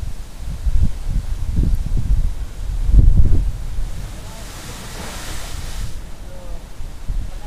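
Ocean waves roll and wash ashore during a fishing trip, a low rumbling surge that swells and fades, with wind buffeting the microphone.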